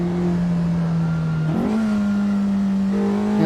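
Race car engine in a racing simulator video game such as Assetto Corsa or RaceRoom, droning steadily at a sustained pitch and then shifting up after a brief gear change, loud and continuous with no talk.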